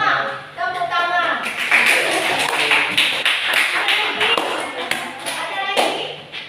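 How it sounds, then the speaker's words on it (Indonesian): A classroom of students claps their hands in irregular bursts after a lesson, lively and fairly close, with scattered chatter and laughter mixed in. "Tepuk tangan."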